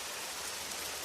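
Steady, dense rainfall pours down in an even, continuous hiss with no gaps or other sounds.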